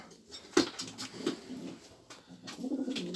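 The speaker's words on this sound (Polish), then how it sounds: "Ładny gołąb." A Polish show homing pigeon of the highlander type coos inside a cage, a few soft, low rolling coos rising over faint rustling and room noise.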